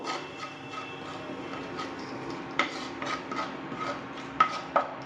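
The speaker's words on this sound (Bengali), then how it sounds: "এগুলো হালকা একটু নেড়ে চেড়ে ভেজে নেবো।" Coriander and cumin powder being stirred and lightly fried in a pan, with soft scraping and occasional clinks of a spatula against the metal, quiet and close with no talking.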